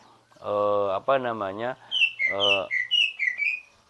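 A voice is heard briefly, then a green leafbird answers with a run of bright, quick chirping whistles, close and clear.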